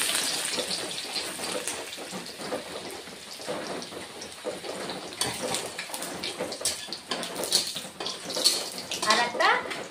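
Crushed garlic fries in hot oil as a tempering for a red amaranth leaf stir-fry, giving a steady dense sizzle and crackle that swells toward the end, with a voice talking faintly beneath.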